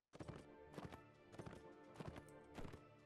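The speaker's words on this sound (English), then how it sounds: "I'm on a horse." Horse hooves clip-clop in the video game Mount & Blade: Warband, a steady galloping rhythm of clustered hoofbeats, loud and close, with no talking.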